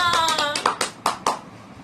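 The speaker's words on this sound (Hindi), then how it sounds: "तालियां तालियां।" A handful of sharp hand claps, roughly five or six quick uneven smacks close by, ringing briefly in an indoor room.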